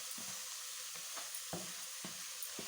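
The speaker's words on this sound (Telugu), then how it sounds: "ఇదిగోండి తురిమేసుకున్న క్యారెట్ని ఇప్పుడు ఈ నెయ్యిలోనే వేసుకుందాం" Grated carrot for carrot halwa sizzles softly in ghee, with a quiet steady frying hiss and a few gentle stirring scrapes spaced about half a second apart.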